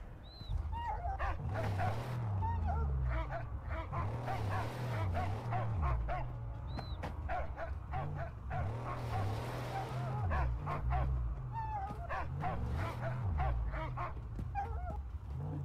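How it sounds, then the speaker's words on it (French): A dog in the Mad Max video game barks, yips and whimpers repeatedly in busy bursts over a continuous low rumbling game soundtrack. "Qu'il est con ce chien."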